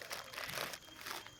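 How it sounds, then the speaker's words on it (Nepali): A sweet's wrapper is opened at home, giving a short burst of crinkling and crackling plastic that pauses briefly before a second rustle, close and fairly quiet. "मिठाई खोलालेको"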